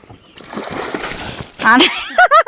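A duck splashing into water, a short close splash and slosh, followed by a few quick voiced calls or squawks at the end.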